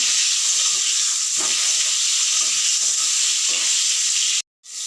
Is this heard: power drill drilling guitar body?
no